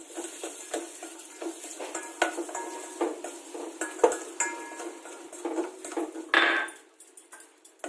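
Raisins and cashews go into a hot pan for ghee rice, with a spoon stirring and scraping against the metal, bright clinks and a soft sizzle repeating close up, without any talk.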